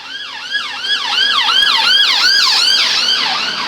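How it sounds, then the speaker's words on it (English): A loud ambulance siren wails close by, sweeping up and down in a fast, repeating cycle. "there's an ambulance"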